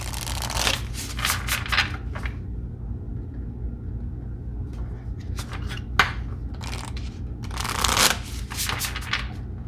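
Tarot cards being shuffled by hand, several crisp riffling and sliding bursts of varying length, close up, with quiet gaps between and a low steady background hum.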